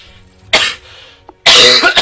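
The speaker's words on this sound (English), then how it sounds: "Oh, sorry about that cough." Two loud, harsh coughs a little under a second apart, the second longer and rougher, from a person close to the microphone during a tabletop card game.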